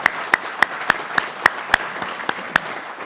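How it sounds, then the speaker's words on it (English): Sparse hand claps at a military change of command ceremony, about a dozen separate sharp claps spaced irregularly, fairly close and moderately loud, with no sustained crowd roar. "So let's give them a round of applause"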